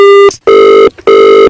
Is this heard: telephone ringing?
yes